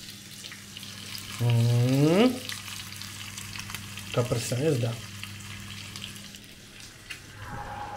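French fries frying in a home kitchen: a soft, steady sizzle runs throughout, quiet under a couple of short voiced bursts and brief utterances from a person nearby.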